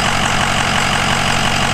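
A 6.0-liter diesel truck engine idles steadily after an oil change and an air-to-oil cooler install, a loud, close, even rumble with a fine rhythmic clatter and no talk over it.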